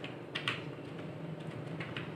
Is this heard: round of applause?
no